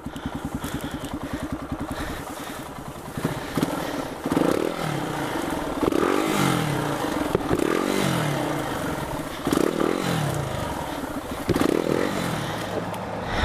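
A trail motorcycle with a smooth tyre is stuck on a forest trail, its engine revving in repeated surges over a steady idle, close and fairly loud.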